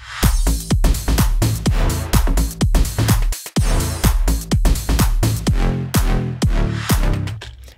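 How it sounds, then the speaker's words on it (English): Open and closed hi-hats ride over a shuffling drum groove with punchy kicks in an Ableton bass house beat, a steady loud loop running the whole time with no talking. "now I can turn these two hats on, and you can see I've got an open hat"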